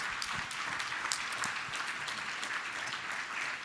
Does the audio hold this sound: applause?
yes